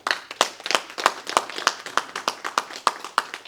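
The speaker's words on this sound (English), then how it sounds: "let us give Jagaban a big round of applause today" Audience at a political support forum clapping in a steady, rhythmic run of sharp, close hand claps, several each second, with no talk over it.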